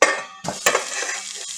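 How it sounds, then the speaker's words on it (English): A burger patty hits hot oil with a sharp, brief sizzle and a clatter of metal, then the crackling frying continues close by. "I got a sizzle"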